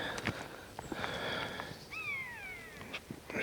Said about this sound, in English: Can hear the buzzard.